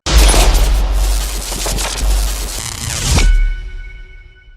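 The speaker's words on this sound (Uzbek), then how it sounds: "metan zapravkada gaz balloni portladi" A gas cylinder blast at a methane filling station: a heavy boom followed by rumbling, crackling bursts, then a second sharp blast that decays into a quiet ringing tail.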